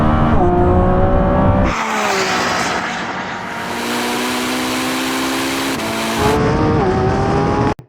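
Lamborghini Revuelto and Ferrari SF90 supercars racing, with loud, close high-revving engines whining through gear changes, then a sustained roar as the cars pull away, and another engine surging back in before an abrupt cut.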